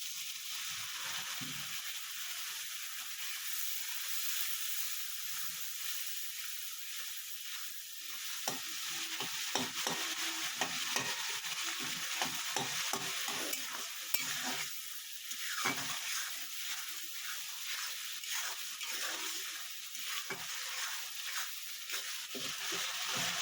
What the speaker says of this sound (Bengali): একটুখানি জল দেবো যাতে মশলা পুড়ে না যায়